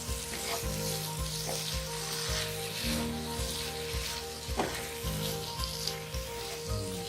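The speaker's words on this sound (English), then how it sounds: "So now add the chopped boiled potatoes in it. Mix it well." Chopped boiled potatoes and ivy gourd (tindora) sizzle steadily in a hot pan, with a spoon scraping and knocking in a regular stirring rhythm, close and fairly loud, with no talking.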